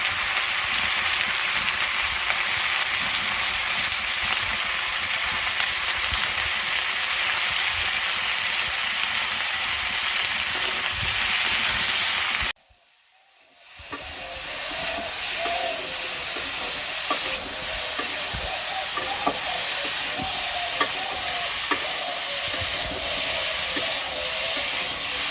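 Village-style banana curry with mustard, salt, turmeric and green chilies frying in a pan, giving a loud, steady hiss and sizzle that cuts out briefly midway, then resumes.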